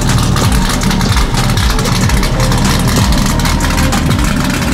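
A C6 Corvette engine runs loud and close on a banked track, a thick low rumble with rhythmic pulsing surges and no pauses.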